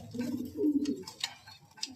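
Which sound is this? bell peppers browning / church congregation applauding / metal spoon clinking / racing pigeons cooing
racing pigeons cooing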